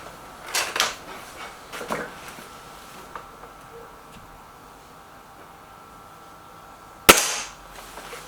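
A Gamo Whisper Sting air rifle fires a single sharp, loud shot near the end, after a few softer handling clicks and knocks earlier in a quiet room.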